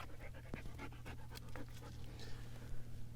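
A dog pants rapidly and steadily right beside the listener, each quick breath distinct, over a constant low hum, with no voices.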